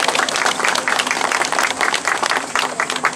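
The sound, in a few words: applause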